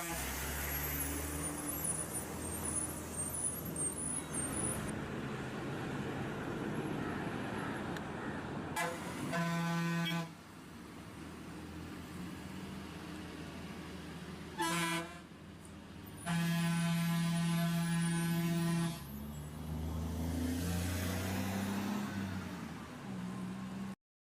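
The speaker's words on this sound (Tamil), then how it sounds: "அடுத்தது பஸ்." A public government bus sounds its horn in several loud, sustained honks over steady road and engine rumble, with longer blasts in the middle and toward the end.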